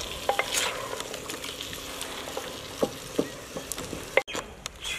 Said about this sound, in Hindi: आयल और प्याज और अदरक लहसुन के पेस्ट में दुम्बे के गोश्त को 2-4 मिनट के लिए भून लेंगे